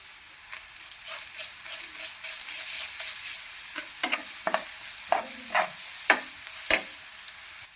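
Browned onion sizzles in a pan for paneer bhurji as ginger garlic paste goes in, with steady frying hiss and a run of sharp stirring scrapes and knocks toward the end, close and fairly loud.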